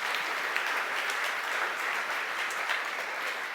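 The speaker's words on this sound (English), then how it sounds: "please give a wonderful round of applause to Matthias" A conference audience applauds as a speaker is welcomed on stage at SmashingConf Freiburg, a steady dense wash of many hands clapping that fills the room evenly and holds at the same loudness throughout.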